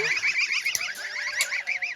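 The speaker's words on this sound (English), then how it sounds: "let me tell you about my geese." Sebastopol geese honk steadily in a nasal, repeated chorus, fairly close, with a couple of brief sharper calls standing out.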